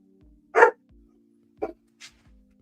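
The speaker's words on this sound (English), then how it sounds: "That's why I thought your dog was barking." A dog barks nearby, one loud bark followed by a shorter second bark and a faint yip, each brief, with quiet background tones in between.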